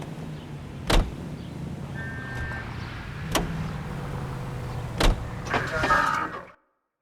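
Car engine hum under a steady drive in the video game LA Noire, low and continuous, with a few sharp thumps and a brief rising whine near the end before cutting out.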